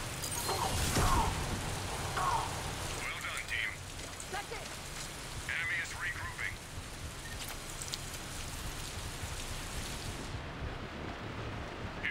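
Damaging rain in the Mass Effect multiplayer game gives a soft, steady hiss of falling drops with faint mechanical clatter, heard under players talking and laughing.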